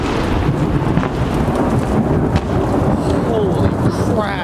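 A loud, steady roar of heavy rain and wind fills a thunderstorm, with low rumbles of thunder rolling underneath throughout, close to the microphone and with no talking.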